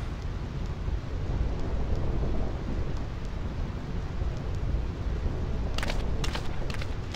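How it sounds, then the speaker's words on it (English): Thunderstorm in Final Fantasy X, steady heavy rain and a dense wash of wind-driven noise with low rumbling thunder throughout, plus a few sharp crackling strikes near the end. "This storm never stops."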